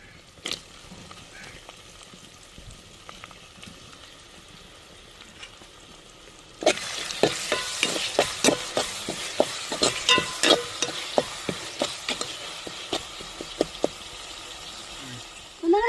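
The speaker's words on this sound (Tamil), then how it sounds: "வெங்காயம் பச்சை மிளகாலாம் வதங்கி வந்துருச்சு நம்ம தக்காளியவும் இஞ்சி பேஸ்ட்டையும் சேர்த்துக்கிறோங்க" Onions, green chillies, tomato and ginger paste being sautéed in a pan for an egg curry. Quiet at first, then loud, rhythmic scraping stirring strokes over a steady sizzle dominate the rest.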